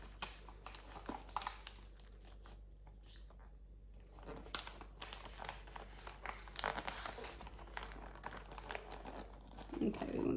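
Paper crinkling and rustling as a gift bag is wrapped and the paper smoothed along the top inside edge, in soft intermittent bursts of crackle with a few sharper crinkles near the end.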